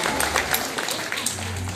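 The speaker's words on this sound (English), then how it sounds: "give a round of applause to our veterinary rescue teams" An audience applauds veterinary rescue teams at an animal-charity event, a steady, dense wash of clapping that holds through the whole stretch at an even level, with a low hum underneath.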